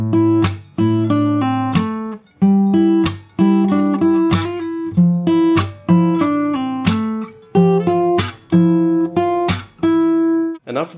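Fingerstyle acoustic guitar plays the intro of a song, with clear plucked notes and chords in a repeating, moderately paced pattern, close and alone, with no talking.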